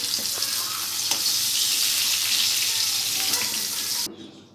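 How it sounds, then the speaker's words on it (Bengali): Capsicum sizzling loudly in a hot frying pan for several seconds, a steady bright hiss with faint stirring clicks, then cutting off abruptly near the end. "ক্যাপসিকামটা ভাজার সময় আপনারা একটু নুন দিয়ে দিতে পারেন, যাতে ক্যাপসিকামটা সামান্য একটু নরম হয়।"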